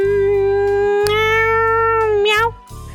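A cat meows in A Marble's Muse video game: one long, loud, drawn-out meow that rises and then falls, over a steady low hum.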